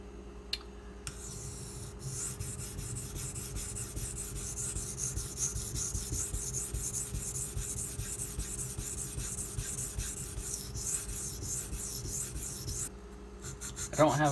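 A steady abrasive rasp of a Kershaw Launch 11 blade bevel being ground on a sharpener to blend an off-center factory grind, continuous and close, quiet and even throughout.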